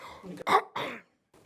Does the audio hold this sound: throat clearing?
yes